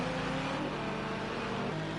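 Continuous loud engine drone of a GT3 racing car at Watkins Glen in a racing video game, with steady tonal harmonics that shift in pitch near the end, and no talking.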